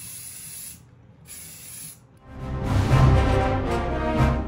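Aerosol filler primer hisses onto a 3D-printed Star Wars pit droid part in two short, close bursts, then a longer, louder and fuller spray runs to the end.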